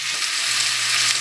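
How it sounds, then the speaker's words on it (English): Sliced cucumbers sauteing in walnut oil in a pan, a steady, close hiss of frying without pause, no voices. "Then you cover it and let it saute for about 5-6 minutes"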